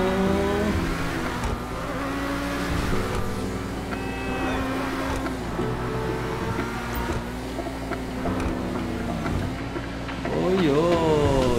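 A 2019 McLaren Senna race car in GTA 5 drives steadily with a continuous engine drone and shifting revs, rising sharply near the end, while a voice talks over it throughout.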